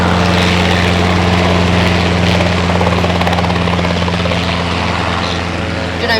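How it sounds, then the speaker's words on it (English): A helicopter roars close overhead, a loud, steady throbbing rotor drone that fills the whole stretch without letup. "Did I mention there was a helicopter here?"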